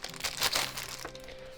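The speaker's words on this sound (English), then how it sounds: "So I'm just going to open the plastic bag it's in" A plastic bag holding a phone case for the Honor Magic4 Pro is opened, giving a run of close crinkling and rustling bursts, loudest in the middle and fading at the end, with no talking.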